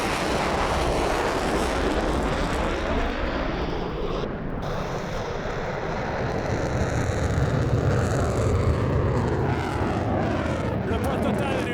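A Dassault Rafale fighter jet flies a slow pass and slow loop at an air show, its engines producing a loud, continuous roaring rush that sweeps and shifts as the aircraft moves, with some wind noise on the microphone.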